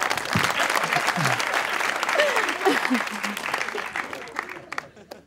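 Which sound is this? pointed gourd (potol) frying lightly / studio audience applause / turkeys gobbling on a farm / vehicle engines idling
studio audience applause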